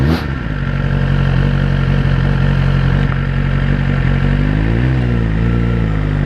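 Suzuki GSX-R1000 superbike fitted with a Yoshimura exhaust pulls away smoothly, its loud steady engine note idling then gently rising as the revs climb, close to the microphone and without talk.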